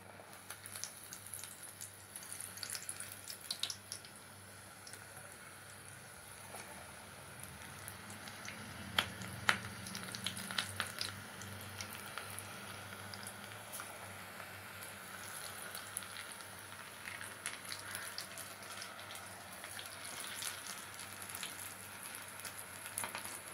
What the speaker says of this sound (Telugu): ఇప్పుడు మన ఆయిల్ వేడెక్కింది, వేడయింది ఆయిల్. ఇప్పుడు మనం బజ్జీలు వేసుకుందాం.